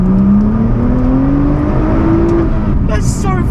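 A tuned 580 bhp Nissan GT-R R35 revs up on the road with a rising engine note, then shifts gear with a quick drop and a fresh climb, loud and close inside the car, with a brief noisy burst near the end.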